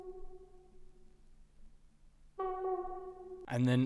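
A warped horn sample runs through a tape-style echo with heavy flutter, sustained tonal notes that shift and wobble, then jump to a brighter, denser layer near the end.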